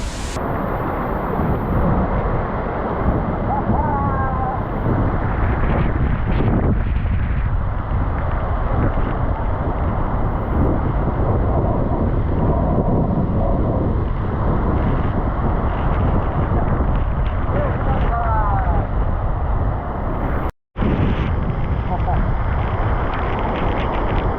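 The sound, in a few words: Devkund waterfall crashing down from about 300 feet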